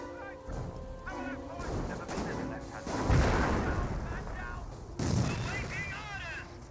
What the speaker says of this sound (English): There's the US mortar.